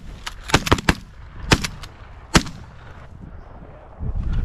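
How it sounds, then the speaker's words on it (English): Shotguns boom in a quick volley during a goose hunt from a layout hide in frozen Wisconsin: several sharp, loud blasts close together, then a few more spaced shots. "Did you shoot one, Kevin?"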